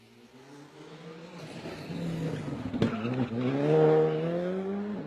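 A Skoda Fabia R5 rally car races along a rally stage at speed, its engine revving hard and rising in pitch through gear changes as it approaches and passes, with a sharp crack midway.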